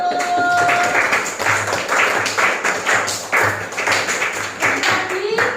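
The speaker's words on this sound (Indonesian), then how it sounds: "Tepuk tangan untuk kelompok 1" A class of students applauds group 1 during a teacher's classroom performance assessment: steady, dense clapping that fills the room, rising and falling in waves across the whole stretch.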